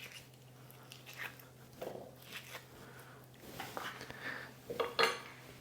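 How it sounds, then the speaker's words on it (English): A spoon scoops avocado halves into a jug, giving a short run of soft scrapes, light clinks and small thuds that grow louder and sharper near the end, close up with no talking. "Then just scoop out your avocado and place it into a jug."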